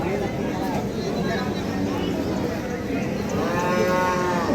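Cattle lowing at a livestock market in Ambari, Dinajpur, where deshi dairy cows with calves are being bought and sold; repeated moos sound over a dense, constant crowd murmur, with people talking throughout.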